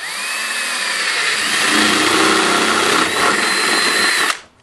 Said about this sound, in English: I'm going to drill a hole about 2 inches from the top or halfway down the middle of this pipe